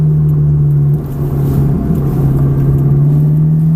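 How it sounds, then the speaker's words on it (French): Ferrari F430 engine dropping a gear under braking, a loud, steady in-cabin drone with a brief pitch wobble and blip as the downshift happens midway. "Là, vous rétrogradez une fois, voilà, c'est tout."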